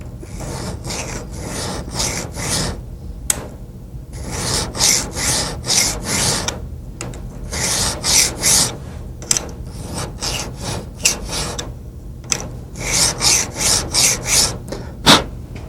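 A hand file rasps back and forth on a pistol slide, opening up the front sight dovetail; steady rhythmic strokes, close and loud, with brief pauses between bursts of filing.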